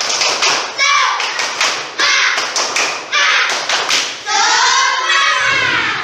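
A classroom of children performs a rhythmic spirit clap, bursts of group clapping and thumps in a repeated pattern mixed with children's chanting voices, loud and close.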